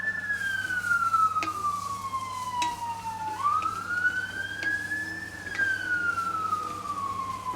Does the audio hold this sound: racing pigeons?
no